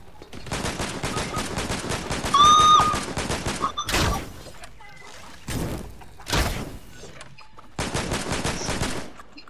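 Rapid automatic gunfire from the video game Fortnite, loud bursts of shots with a few gaps and heavy thuds between them, some voices faintly underneath.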